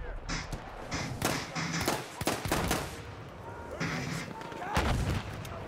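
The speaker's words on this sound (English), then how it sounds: "I kind of really like this auto-loading rifle." Auto-loading rifle shots ring out in a Battlefield 1 battle, sharp repeated cracks amid distant artillery-like thumps and broad combat noise, fairly close and irregularly spaced.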